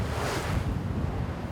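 Rough sea waves churn and slap around a small fishing boat out after skate near the Korean coast, a steady broadband wash with wind rushing across the microphone, no voices.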